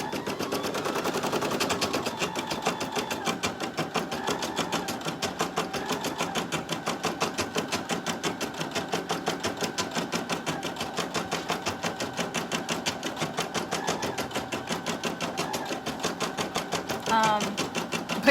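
A sewing machine stitching lingerie runs steadily throughout, with a fast, even mechanical chatter of the needle at close range and a brief change near the end.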